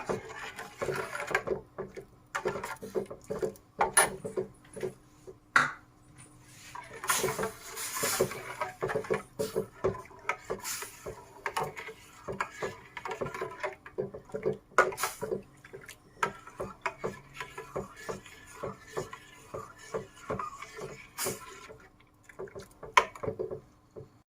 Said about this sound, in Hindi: अब इस तरीके से हमें घुमाना है, जिसमें ये जेली अच्छे से मिक्स हो जाए।